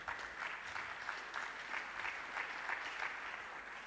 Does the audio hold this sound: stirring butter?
no